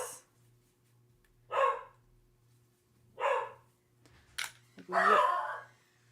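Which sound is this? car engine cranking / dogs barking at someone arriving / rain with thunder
dogs barking at someone arriving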